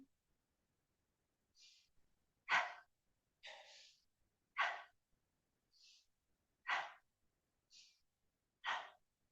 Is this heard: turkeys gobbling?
no